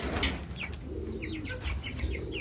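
American Giant pigeons feed alongside chickens on a farm's lower level, with soft cooing and brief wing flutters near, plus a few high chirps over a steady background hum.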